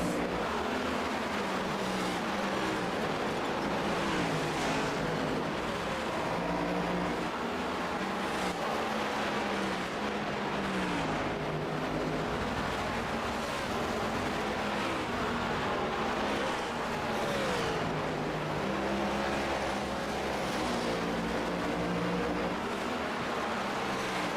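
Stock cars racing at Bristol in a racing video game, a dense, continuous roar of engines with revving pitch sweeps as cars pass close, loud and unbroken for the whole stretch.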